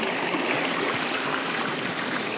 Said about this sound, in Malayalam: ഈ വരുന്ന ഒഴുക്ക് ചിലപ്പം ചില സമയങ്ങളിൽ നല്ല സ്പീഡ് വരുമായിരിക്കും